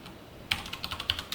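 Quick, crisp keystrokes on a computer keyboard while code is typed, starting after a brief quiet pause with an irregular run of close, clicky taps and a few sharper accented presses, with no voices.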